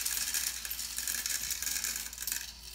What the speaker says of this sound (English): it takes a while for all the balls in the crystal to continue falling through